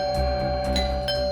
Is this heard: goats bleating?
no